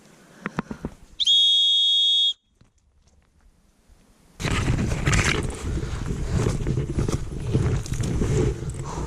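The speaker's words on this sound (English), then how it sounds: "Hit the whistle once more." A single loud, shrill whistle blast held for about a second on a wilderness hiking trail, after a few light taps, then a pause before rustling and trampling noise from the trail takes over.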